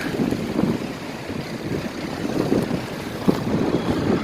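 Strong wind carrying sand blows steadily across a roadside in stormy weather, a continuous broadband roar with gusty swells, loud and close to the microphone.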